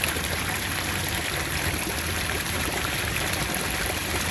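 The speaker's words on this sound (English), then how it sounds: "this is the waterfall system" A koi pool's waterfall system pours steadily, a constant broadband rush of falling water with no breaks, moderately loud and close, with no one talking.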